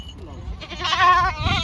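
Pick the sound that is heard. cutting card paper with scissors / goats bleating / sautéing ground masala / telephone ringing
goats bleating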